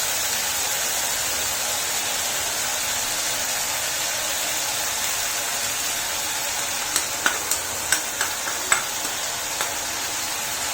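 Asafoetida and panch phoron tipped into hot oil give a steady, moderately loud hiss and crackle, with a short run of sharper pops and spits near the end and no voices.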